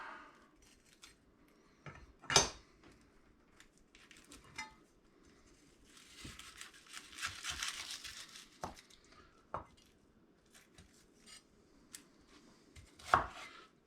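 A knife works through an onion on a board in a few scattered, sharp chops with rustling of peel between them, quiet and close, no talking.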